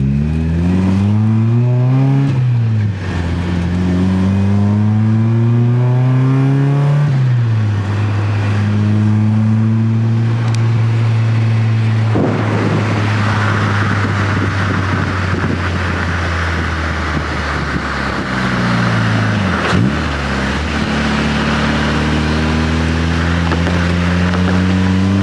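A lowered Mazda Miata drives along, its engine droning and shifting pitch through gear changes, then rumbling and thumping over train tracks with a burst of rough road and wind noise; no one speaks.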